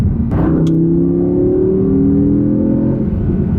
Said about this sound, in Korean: 지금 7000rpm에서 울려 퍼지는 이 자연흡기 엔진의 엔진음